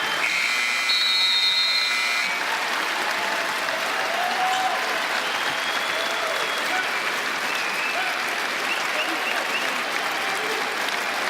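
A basketball arena crowd applauds at an NBA game as a tribute to Kobe Bryant, with sustained, loud, even clapping that follows a short electronic tone at the start.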